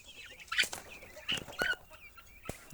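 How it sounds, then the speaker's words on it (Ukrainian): Chintz-patterned and naked-neck hens cluck and chatter close by in a poultry yard, a scatter of short, uneven calls with brief louder squawks over a quiet background. "Вон курочки ситцеві, і голошейки, адлери і від наших"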